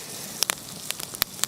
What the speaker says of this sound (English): Oh, sizzling in their juices.